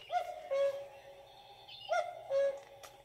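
A woodland animal sound plays from a children's sound-button book, a recorded hooting owl call in four short, faint, clipped bursts separated by brief pauses.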